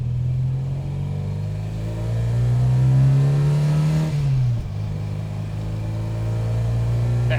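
A supercharged MGB sports car with a supercharger-specific camshaft pulls under hard acceleration, its engine droning steadily upward in pitch, then dipping briefly as it bogs before rising again, with loud, close cabin rumble throughout.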